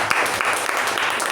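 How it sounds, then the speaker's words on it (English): Audience at a Toastmasters meeting clapping steadily, a dense, even wash of applause that holds at the same level for the whole brief stretch. "Let's give him a round of applause for that."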